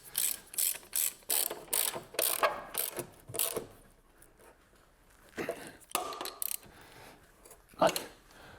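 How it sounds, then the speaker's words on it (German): Ratchet wrench tightening the bolts of a newly fitted transmission mount on a car, a series of quick clicking bursts in clusters, close and fairly clear with no talk. "Und jetzt muss das Ganze nur noch angezogen werden."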